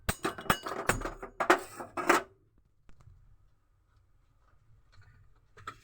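A metal cooking pot is handled in a home kitchen, giving a quick cluster of clinks and knocks over the first two seconds before near silence and a faint tap at the end.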